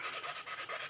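A ResinCrete piece is sanded right along its edge with quick, steady back-and-forth rubbing strokes, close up and alone.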